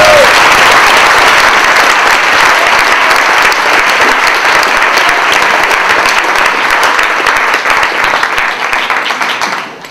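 Sustained audience applause welcoming a speaker at a conference, dense clapping from a large room holding steady for several seconds before tapering off at the end.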